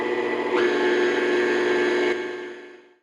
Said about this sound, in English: I'm going to turn on my mixer and just mix it till it's incorporated.